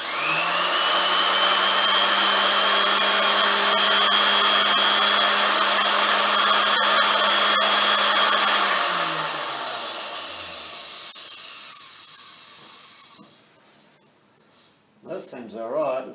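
A repaired lathe toolpost grinder motor runs with a steady high whine and hum for about eight seconds, then spins down and fades as it is switched off, leaving quiet shop noise and a faint clatter at the end.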